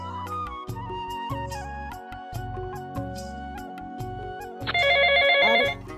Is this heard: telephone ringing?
yes